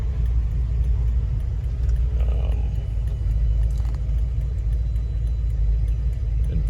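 Ford Gran Torino V8 with Holley Sniper EFI held at full throttle, a steady loud engine rumble that stays dense and even throughout, with no talk over it.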